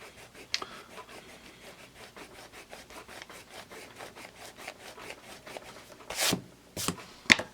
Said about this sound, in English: let's try a magic rub